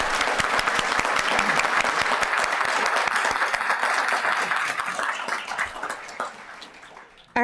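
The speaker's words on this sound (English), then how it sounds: "Please join me in giving them a round of applause." A town council meeting audience gives a round of applause, with dense, loud clapping from many people that gradually thins and fades toward the end.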